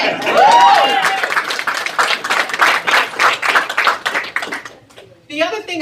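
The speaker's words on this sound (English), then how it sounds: "I need a clap after that" A press-conference audience breaks into brief clapping, a burst of distinct claps that fades within a few seconds, with a whoop early on and a voice resuming speech at the end.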